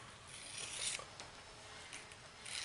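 A broadhead's edge is raked back and forth to strip off the burr, giving a few quiet, dry rasping strokes close by with no talk.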